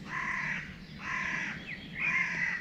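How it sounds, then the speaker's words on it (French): Three loud, harsh caws from a crow at daybreak beside an ultralight alpine tent, evenly spaced and close, with no talking and only faint background hiss. "qui toutes les 5-10 secondes faisait son cri de corbeau."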